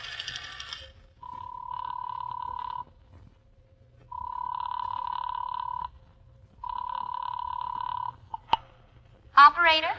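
A telephone bell rings in three long, evenly spaced bursts with pauses between, a sound effect in an old-time radio drama, with a brief voice before the rings and another after.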